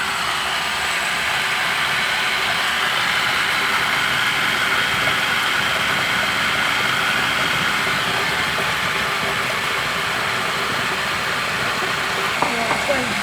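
A mixer motor runs steadily while blending cheesecake batter with buttermilk added, a loud continuous whirring drone that holds level throughout, with a brief clatter near the end.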